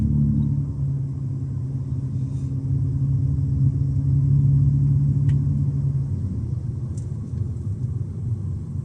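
Heavy road traffic with a semi truck passing close by at the Louis-Hippolyte tunnel construction site, a loud steady engine rumble that swells and then eases off, with no talking.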